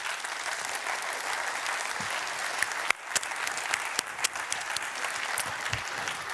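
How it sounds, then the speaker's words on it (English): Steady applause fills a conference auditorium, a dense, even wash of many hands clapping for several seconds at moderate level, with a few sharper individual claps standing out. "I would like to also ask you all for a very warm and engaged applause for our auditorium"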